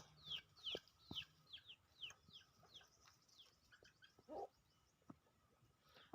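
A chicken clucks near someone lying beside it, giving a quick run of short, faint clucks followed by a few scattered softer calls in a quiet setting.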